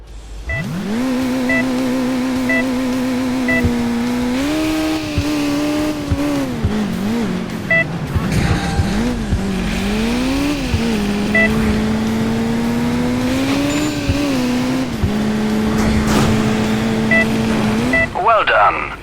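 A car in Crash Time 2 speeds up for a jump, its engine revving hard and climbing through the gears in a loud, sustained roar, with a voice talking over it.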